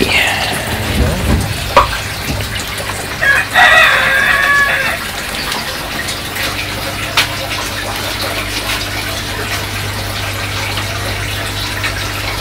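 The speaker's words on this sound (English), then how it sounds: "You also hear the rooster." A rooster crows once at moderate distance, standing out over a steady rushing, watery background noise from a greenhouse hydroponic system.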